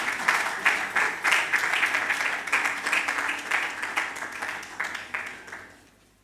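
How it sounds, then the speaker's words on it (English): Hand clapping from the audience welcoming the Provost at a university College of Health Sciences anniversary launch, a lively, dense round of applause that holds steady and then tapers off to quiet. "Please welcome him with a hand clap"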